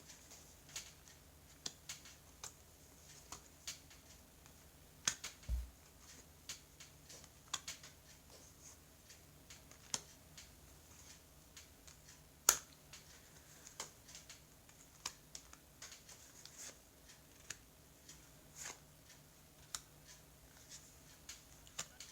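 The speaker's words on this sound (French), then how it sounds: "je vais étaler les cartes" Tarot cards spread out across a table, a steady run of quiet papery clicks, slides and taps over about twenty seconds, close and soft, with a single louder tap partway through and no talking.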